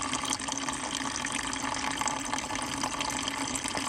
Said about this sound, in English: While we're waiting for the coolant to drain out